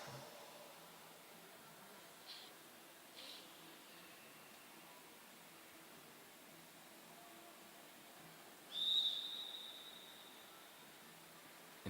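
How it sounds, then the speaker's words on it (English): Referee's whistle at a track cycling race at the 2023 Oceania Track Cycling Championships in Brisbane, a single short, distant tone near the end over steady arena hiss. "And King leads Watts to the bottom of the track as the whistle goes"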